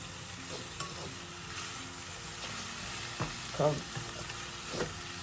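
White fish sizzles steadily in a pan with seasoning while it is turned over, the close frying hiss broken by a few short scraping and stirring clatters.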